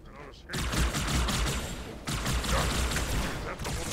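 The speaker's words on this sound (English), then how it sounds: "that sound you heard was definitely gunshots" Rapid bursts of gunfire in the Halo 2: Anniversary video game, a dense continuous volley starting after a brief quiet moment and carrying on steadily, fairly loud, with no talk over it.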